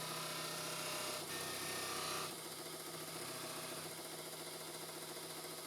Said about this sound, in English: this is a stitch mop. So again, we're using some honing soap here just to polish the outside bevel